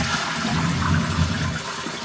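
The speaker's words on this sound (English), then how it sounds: "I'm just gonna flush" A toilet cistern flushes just after its diaphragm was replaced, water gushing and rushing loudly and continuously up close with no talk.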